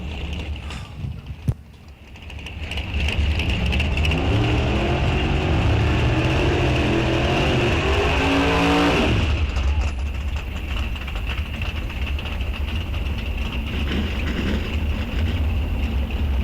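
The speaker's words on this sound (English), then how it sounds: "I hear super gas cars coming to the starting line" A loud, sustained engine roar of NHRA Super Gas drag racing cars at the starting line fills the recording, with a rising revving whine that cuts off abruptly, then steady rumbling continues.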